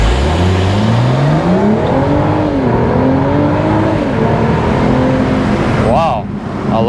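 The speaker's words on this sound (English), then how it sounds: "The sound, the engine sound, this B58, similar to our X3 M40i, but here it's even louder." A BMW B58 engine accelerates hard from a standstill at a light during a BMW driving event, its loud, close growl climbing steadily in pitch through the revs, with a short lift near the end.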